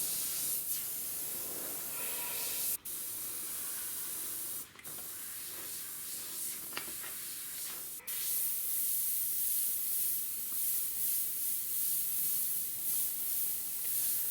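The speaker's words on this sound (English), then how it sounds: "you'll notice now I'm up nice and close with my airbrush" An airbrush sprays white paint onto a Harley-Davidson front fender, a steady close hiss that cuts out in a few brief pauses before resuming.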